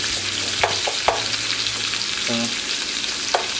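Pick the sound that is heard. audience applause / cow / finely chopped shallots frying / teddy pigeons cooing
finely chopped shallots frying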